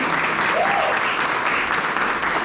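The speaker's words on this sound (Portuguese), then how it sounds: "Uma salva de palmas para as mulheres." A church congregation claps steadily and loudly for International Women's Day, dense applause filling the whole moment, with a brief voice rising underneath.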